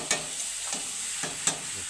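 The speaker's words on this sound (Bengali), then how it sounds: "এখন সবজিটাকে আমি নাড়া দেবো" Vegetables are stirred in a hot pan, a close sizzle with several distinct scraping strokes at an irregular pace.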